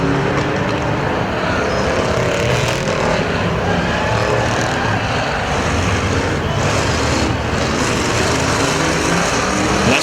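Race cars roar continuously around the dirt oval at Perris Auto Speedway during a night of heats and main event, a loud, dense engine drone with layered cars blending and swelling as they pass.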